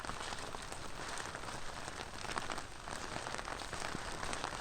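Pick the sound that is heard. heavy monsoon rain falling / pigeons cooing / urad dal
heavy monsoon rain falling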